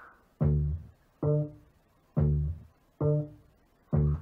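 Two bass samples lifted from a funk song alternate in a steady pattern, five round, punchy low notes with sharp attacks and quick decays, loud and alone with no talking.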